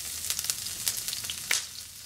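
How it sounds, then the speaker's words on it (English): Garlic and ginger frying in a hot pan on the stove for a green bean and scallop dish, giving a steady close sizzle with a few sharper pops and crackles and no voices. "Get those sizzling, then we'll toss and stir them around before adding the green beans."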